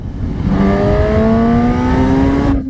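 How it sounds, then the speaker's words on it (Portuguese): Honda CB 1000 Hornet motorcycle pulling hard in sixth gear, its engine note rising steadily in a loud, close, continuous drone with strong wind rush, ending abruptly. "Como pode ver, mesmo em 6, a moto retoma muito bem, sendo mais rápida que um carro."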